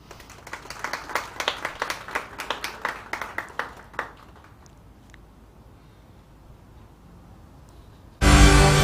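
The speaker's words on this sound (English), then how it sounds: "you can give her a round of applause" Audience applause at a scientific merit awards ceremony, a few seconds of distinct clapping from a modest crowd that tapers off into near silence before an abrupt loud burst of noise at the end.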